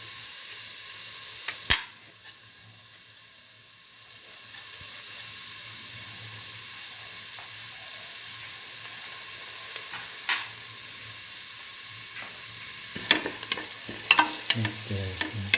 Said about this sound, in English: Now put in the fennel seeds.